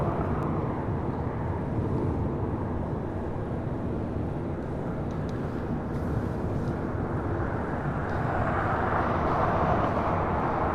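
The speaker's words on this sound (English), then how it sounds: "That was American Airlines Flight 1998 coming in from the Valley of the Sun at Phoenix, Arizona" An American Airlines jet arriving at LAX from Phoenix rumbles as a steady, broad engine roar, sustained and fairly distant throughout.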